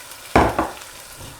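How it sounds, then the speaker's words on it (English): Stock splashes and sizzles as it is poured into a hot pan of rice and caramelized onions, in two quick loud bursts followed by a softer bubbling hiss. "And now I'm just going to add the stock straight in,"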